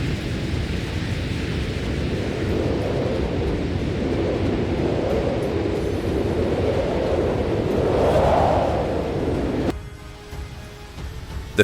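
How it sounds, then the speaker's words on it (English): A thunderstorm's deep, continuous rumble rolls on loud and steady, swelling near the end before cutting to a quieter wash of wind and rain. "the storm rumbles like the roar of a giant monster"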